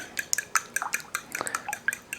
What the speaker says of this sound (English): I'm going to go ahead and gently beat these eggs